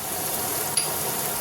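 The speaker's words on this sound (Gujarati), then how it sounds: "હવે આપણે વેજીટેબલ બહુ સાતળવાના નથી, કચરા જ રહેવા દેવાના છે।" Vegetables sauté in a pan for pasta, a steady soft sizzle and frying hiss with one faint clink partway through, fairly quiet and without talk.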